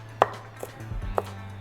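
A knife chops washed coriander stems and roots on a board for lemongrass pork chop marinade, giving a few sharp, separate strikes over a low background hum.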